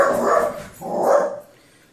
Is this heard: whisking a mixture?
no